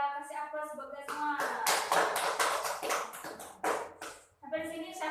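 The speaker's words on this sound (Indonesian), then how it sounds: "Ayo kita kasih aplaus buat guys semua." Students in a school classroom break into a short burst of clapping lasting a few seconds, close and lively, preceded and followed by a teacher's speech.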